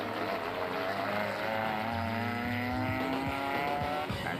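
Ford Ranger rally car charging past during an African cross-country race, its engine note rising and shifting as it passes fairly close, with a rough, sustained roar and some harsh mechanical edge.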